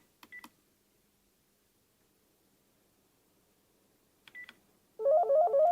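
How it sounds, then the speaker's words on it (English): A Panasonic TGM4 series cordless home phone beeps twice as a button is pressed, then rings out in a trilling intercom tone that starts near the end; nothing else is heard between the tones. "I'm going to start an intercom call."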